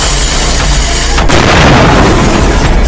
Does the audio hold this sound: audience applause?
no